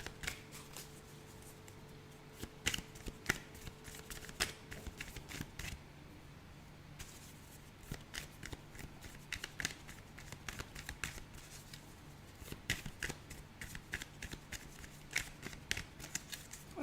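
Tarot cards shuffled by hand in quick, irregular riffles and slaps, quiet and close, with a faint steady hum beneath.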